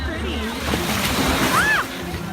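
Water sloshing and splashing as someone wades into the ocean off Half Moon Cay, a steady wash of surf running throughout with a faint squeal near the end and voices in the background.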